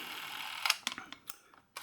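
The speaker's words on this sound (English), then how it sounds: "As you can see, motor and shutter work great as well." A Revue Super-8 S6 film camera runs its motor and shutter in short bursts, a few mechanical whirring clicks close to the microphone with brief gaps between them.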